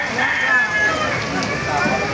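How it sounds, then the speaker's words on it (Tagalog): Heavy rain pours in Bocaue, a dense even hiss of drops on surfaces close by, holding steady throughout, with people faintly talking underneath. "Malakas ng ulan mga kamaster dito sa Bukawi."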